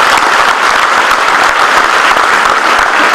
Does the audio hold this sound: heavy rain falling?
no